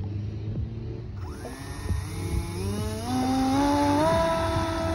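A small engine on a model banana plane starts up with a rising, whining buzz that climbs in pitch and grows steadily louder near the microphone, over faint low background rumble.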